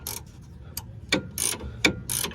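Ratchet wrench and 6mm Allen key loosening stabilizer link bolts on a Chevy Equinox/GMC Terrain: several short, close metallic ratcheting clicks in bursts with brief pauses.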